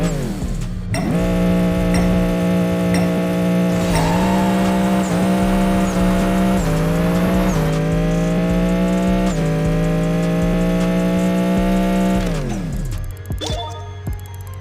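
V8 race car in the Apex Racer game roaring through a half-mile drag run, a loud sustained engine note climbing in pitch with several distinct gear shifts before cutting off near the end.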